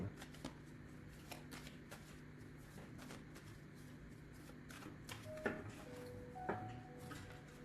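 A deck of tarot cards is cut and handled up close, producing soft rustling and a steady series of light card clicks and snaps at a quiet level.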